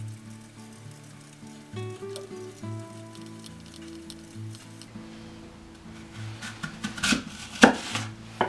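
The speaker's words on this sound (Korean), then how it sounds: "먼저 사과를 깎아서 절반으로 잘라 얇게 편을 썰어 주도록 하겠습니다." A knife slices a peeled, halved apple into thin pieces on a cutting board, with quiet cuts at first and then louder, closer crisp chops and crunches toward the end over soft background music.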